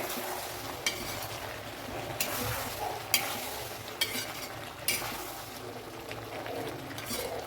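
Brinjal fries in a pan with a soft continuous sizzle, punctuated by about half a dozen light spoon taps and scrapes against the pan at irregular intervals.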